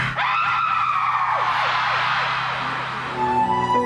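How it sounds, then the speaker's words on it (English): A loud, sustained scream opens a Thames TV children's show, held at high pitch and slowly falling for a couple of seconds before giving way to a tonal music sting. "the show starts with a scream."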